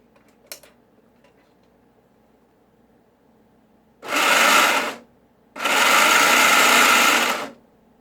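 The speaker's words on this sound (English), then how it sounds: "So now we're getting ready to test the motor with the 3 cogs in place for the first time." A small motor drives a three-cog robot gear set in two bursts, a brief whirring run then a longer one of about two seconds, each loud, gritty and buzzing, separated by near silence after an early click.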